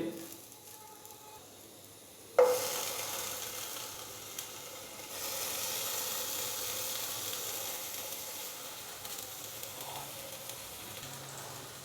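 Cut tomatoes hit an oiled pan and start sizzling, a sudden sharp onset followed by a steady, soft frying hiss that swells slightly midway and carries on evenly.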